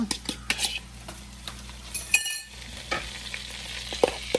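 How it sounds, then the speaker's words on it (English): Onion, carrot, celery, green peppers and garlic sauté in a pot for jambalaya: a quiet sizzle under scraping stirs and sharp clinks of a utensil against the metal, with a brief lull midway. "We're going to have that saute up some"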